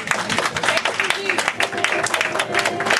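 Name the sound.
congregation clapping hands to welcome the bishop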